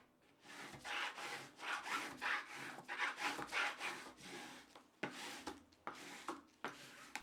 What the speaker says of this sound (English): rub on the book cloth with the bone folder